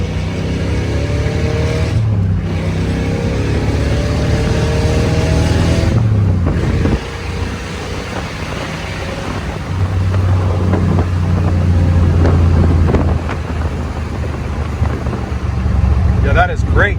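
A 1971 Corvette Stingray convertible cruising on the road, its engine droning low and steady with gear changes and swells, heard from inside the car while people talk over it.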